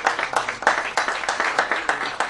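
An audience at a public gathering claps in a brief, fairly quiet burst of applause, with an uneven rhythm of overlapping hand claps throughout.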